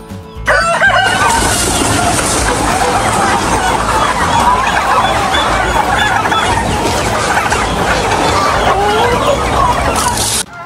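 A dense, continuous chorus of poultry in a backyard farm pen holding turkeys and chickens: roosters crowing and hens clucking over one another, loud and close throughout.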